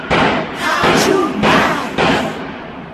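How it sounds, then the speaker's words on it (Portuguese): Rifle gunshots in an urban area, several loud booming bursts, four in about three seconds, each with a short rumbling decay. "Isso aí é tiro de fuzil"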